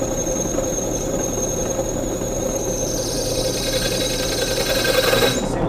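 A Bosch carbide-tipped masonry drill bit grinds and squeals steadily into hard material, a continuous harsh scraping whine close by with no talking.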